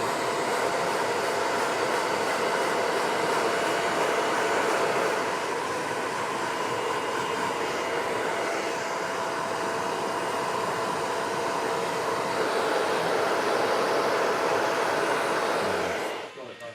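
A hair dryer blows in a steady, loud whoosh of airflow, holding constant for a long stretch before cutting off at the end.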